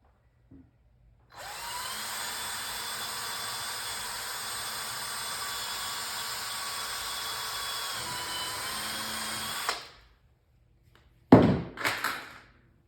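A power drill drives screws into a plexiglass panel on a restored Journey arcade cabinet, running as a steady whine for about eight seconds, then a short pause and two brief, sharp bursts of drilling.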